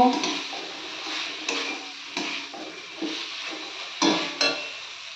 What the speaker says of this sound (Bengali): এবার এর মধ্যে ভেজে রাখা ফুলকপি আর আলুগুলো দিয়ে দেব। দিয়ে একটু কষে নেব।